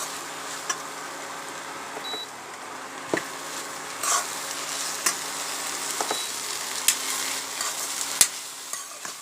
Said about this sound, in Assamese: এতিয়া এনেকৈ ভাজি থাকিব